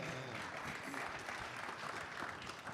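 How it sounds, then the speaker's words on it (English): Audience clapping at a Brew Talks Minneapolis 2022 event, a steady, fairly distant patter of many hands with no voices over it. "Let's clap."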